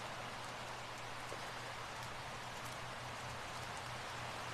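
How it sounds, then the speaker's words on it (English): Wind blows steadily around a tent, a faint, even rushing hiss like soft rain, continuous with no voices. "That's just the sound of wind."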